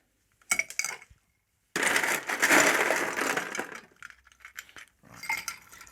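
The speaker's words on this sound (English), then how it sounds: "I need ice in there, just to shake this down." Ice cubes tumbling into a metal cocktail shaker, a couple of short clattering pours separated by silence, with a longer rattling fill in the middle.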